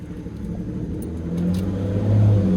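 BMW N54 engine fitted with velocity stacks, heard from inside the car as a steady low rumble that swells into a gentle rev, with faint wind noise.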